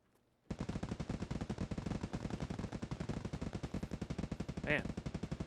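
Sustained automatic gunfire from Escape from Tarkov in hardcore play, a rapid steady stream of loud, close shots lasting several seconds after a brief quiet start, with no voices.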